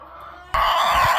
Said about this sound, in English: feed it between George and the chickens